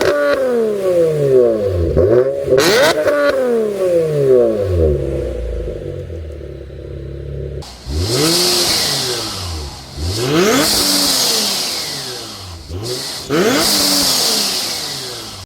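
A supercharged Nissan 370Z engine with a 3-inch single-exit exhaust revs repeatedly, its pitch sweeping up and down in loud bursts, with a whooshing, hissing supercharger and blow-off valve whine on the later revs.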